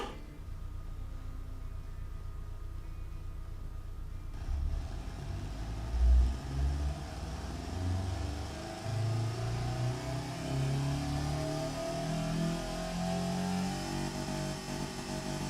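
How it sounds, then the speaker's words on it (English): Simulated car engine from the Automation car-company tycoon game running on a test, idling quietly at first, then revving up loudly with rising and falling pitch sweeps, steady and close, with no talking. "let's actually test this engine again"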